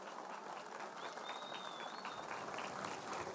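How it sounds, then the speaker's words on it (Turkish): An audience applauds the Mersin State Opera and Ballet dancers at the opening of the Tarsus festival, a steady wash of clapping from a large outdoor crowd with a brief whistle. "Alkışlıyoruz."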